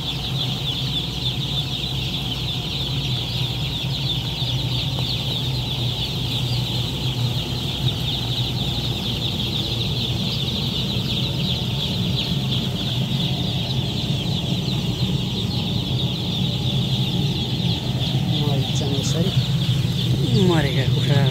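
Hundreds of white Kadaknath chicks and chickens fill a crowded poultry shed with continuous dense peeping and clucking, a steady loud chorus running the whole time with a fan-like hum beneath.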